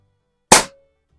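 A single sharp crack from a Pinty Striker .25 caliber bullpup air rifle, a short loud pop that decays in a fraction of a second, alone against near silence.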